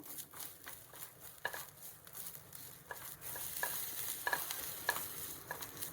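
Grated coconut dry-roasts in a pan while a spatula stirs and scrapes, giving irregular clicks and light scuffs over a soft, steady sizzle, with no talking.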